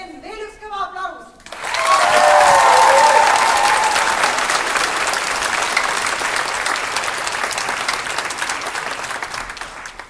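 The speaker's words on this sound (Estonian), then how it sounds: "Merit ja RM, veel üks kõva aplaus!" Loud audience applause bursts out after a moment of talk and holds steady, dense and close, filling the rest of the clip at a small Vanemuise theatre stage event.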